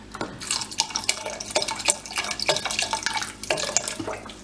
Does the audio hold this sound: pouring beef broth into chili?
yes